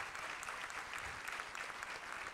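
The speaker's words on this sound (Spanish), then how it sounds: "Y también quería darle un fuerte aplauso a mis profesores, Estela y Vázquez." Applause from an audience at a school event, a dense continuous wash of clapping filling the whole moment.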